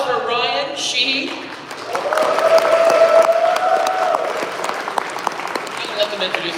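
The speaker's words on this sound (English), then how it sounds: "Big round of applause for Ryan, Sheehy." Audience at a convention panel in Baltimore applauds as panelists are welcomed to the front, a steady wash of clapping and some cheering that swells midway and carries through, with a voice talking over it.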